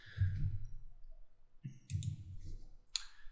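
Computer mouse clicking during database work in PHP, with a few soft, close, sharp clicks spaced apart among faint low rustling.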